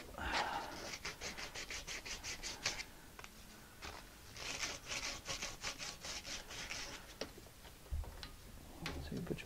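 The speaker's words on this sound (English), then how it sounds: "Or you can cut it with a hacksaw if you don't want to go to the expense of buying one of these." A hacksaw cuts through a pipe in quick, rhythmic back-and-forth strokes, two bursts of rasping sawing separated by a short pause, recorded close but fairly quiet.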